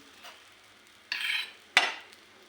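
A sesame, jaggery and peanut mixture being sautéed in a pan, heard as two short bursts of scraping, clattering utensil sounds against a quiet background.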